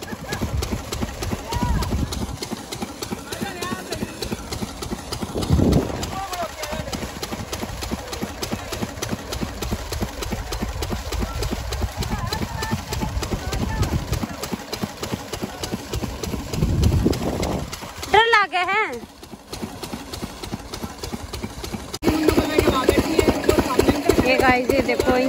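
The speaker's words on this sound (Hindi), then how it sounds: "ये देखो इंजन चल रहा है यहाँ पे" Farm engine running in a field, a steady mid-pitched idling chug with rapid regular pulses, continuous under occasional voices, with a brief louder rise near the end.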